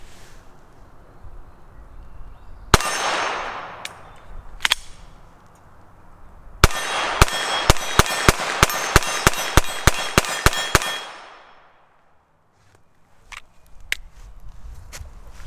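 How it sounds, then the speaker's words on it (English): An FN 502 pistol fires a rapid string of about a dozen sharp shots, each followed by a ringing clang as rounds hit a steel target. Two earlier single shots ring out first, and the string ends in a fading metallic decay. "Let's open fire and mag dump this 15 round mag at it."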